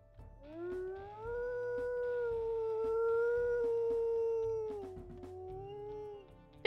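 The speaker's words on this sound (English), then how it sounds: "We'll listen to her howls as well." A female wolf howls in WolfQuest, one long sustained howl that rises, holds steady for several seconds, then dips and fades out, clear and prominent over faint background sounds.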